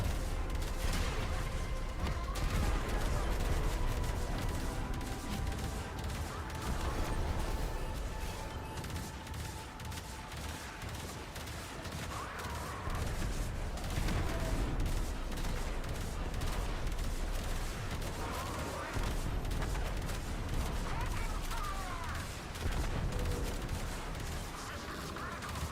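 Sustained rattling gunfire and explosions in a video game battle, steady loud barrages with scattered sharp bursts throughout, over a noisy background.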